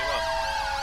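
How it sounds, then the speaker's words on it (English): Several police and emergency sirens wail together loudly, their overlapping tones filling a short burst on a London response patrol attending a call about a man with a knife. "Can't hear you over the sea of sirens, guys."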